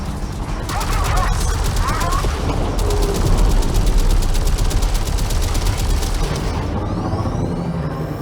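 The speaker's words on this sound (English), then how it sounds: "Lock on! Launch torpedoes!" Torpedoes launch from a Railjack amid gunfire in the Warframe space-combat game, a dense, sustained barrage of rapid repeated blasts and booms with rumbling engine noise, mixed under voices.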